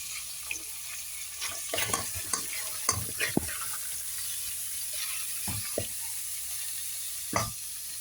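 Onions sautéing with black pepper and meat spices for an okra and lamb tagine, a soft steady sizzle under repeated scraping and stirring strokes from a utensil in the pan, fairly quiet and close.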